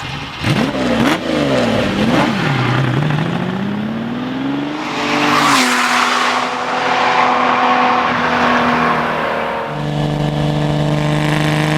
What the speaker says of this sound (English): I'm driving a 1970 Lamborghini Miura S.